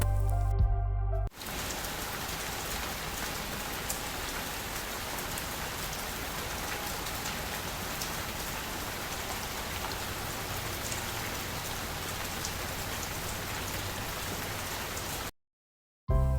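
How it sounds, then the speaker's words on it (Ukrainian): Steady rain falling and pattering on a surface, a dense continuous hiss of drops that runs evenly for about fourteen seconds after a brief quiet start, then cuts off abruptly. "Вірно звук дощику."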